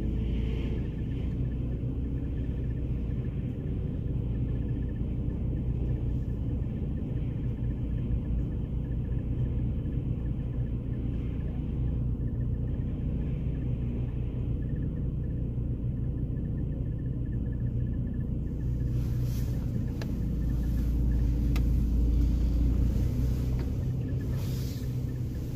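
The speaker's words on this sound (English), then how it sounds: "It's actually the first time I took this car into a car wash" An automatic car wash runs over a car, heard from inside as a steady low rumble and muffled whirring, with a louder spraying, thumping surge near the end.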